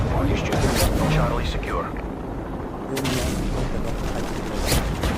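Friendly AC artillery fire in a war video game booms and thuds continuously in a dense, loud barrage, with a voice speaking over the gunfire.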